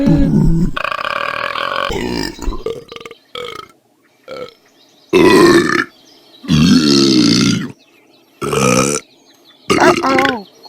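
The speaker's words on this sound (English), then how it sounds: "Why are you burping so much?" A series of long, loud, deep burps comes in separate bursts with short pauses between them, sounding close by and dominating the scene.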